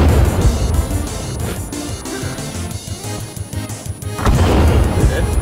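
Loud grenade blasts in the survival video game Sons of the Forest, deep booming detonations at the start and again near the end, with rumbling gunfire-like crashes between them.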